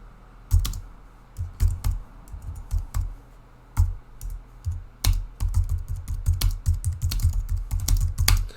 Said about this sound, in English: if I start typing in here